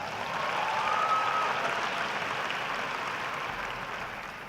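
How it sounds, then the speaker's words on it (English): A crowd at a university commencement applauds steadily, a thick wash of clapping that swells slightly and then slowly tapers off, with no speech over it. "Give yourselves a round of applause"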